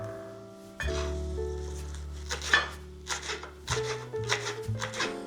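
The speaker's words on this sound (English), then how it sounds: "We also cut the parsley finely." A knife finely chops fresh parsley on a board, a close run of quick, uneven taps that starts a couple of seconds in and continues to the end over a steady musical backing.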